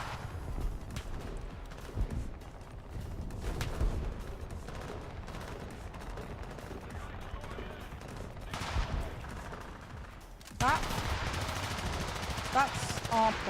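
Soldiers trade rapid gunfire and scattered shots during a War Thunder ground battle, with bursts of varying distance running continuously and a denser, louder stretch near the end, beneath someone talking.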